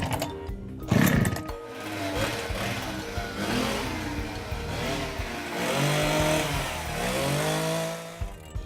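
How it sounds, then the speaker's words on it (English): A small power saw engine running on siphoned fuel, a steady mid-pitched two-stroke drone that rises and falls as the throttle varies, close and loud throughout with no talking. "we tried it in a power saw"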